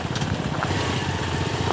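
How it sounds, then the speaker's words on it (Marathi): A motorcycle engine running close behind on a road, a continuous rough buzzing drone at steady loudness for under two seconds with no speech. "एक बाईक मागं आहे."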